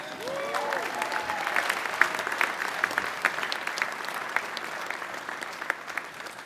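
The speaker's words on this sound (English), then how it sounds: "let's give a round of applause to that" Applause from a university arts commencement crowd, scattered distinct claps over a moderate, uneven bed of clapping with a faint voice or two early on.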